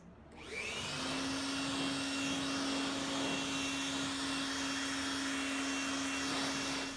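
A steady pressure-washer-like spray of water rinsing a car, a continuous loud hiss with a constant whine after a brief start, with no pauses or talk.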